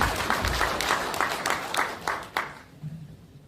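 Audience applause at a Korean political gathering in Gwanak, welcoming a National Assembly member to the stage, a dense burst of clapping that fades out after about two and a half seconds.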